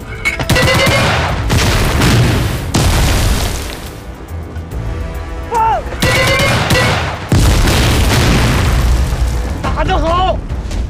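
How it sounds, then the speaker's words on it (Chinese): Artillery guns fire a rapid six-round salvo in a war drama, a string of loud booming blasts in quick succession, broken by a short lull, with voices shouting between the shots. "六发急速射，预备，"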